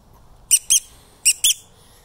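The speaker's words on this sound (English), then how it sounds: "I got this squeaky ball." A squeaky dog toy ball gives four sharp, high squeaks in two quick pairs. Each squeak is loud and close, with quiet in between.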